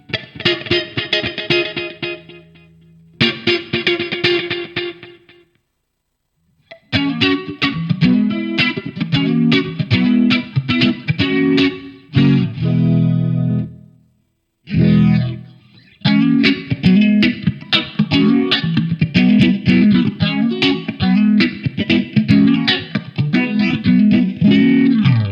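An electric guitar runs through a Line 6 Helix patch built for a tribute, with a distorted, chorused tone and effects on it. It plays rhythmic riffs in loud phrases with a few brief gaps, and no one talks.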